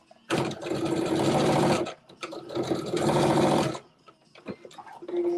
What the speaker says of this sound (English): that's the top stitching you see there, and top stitch.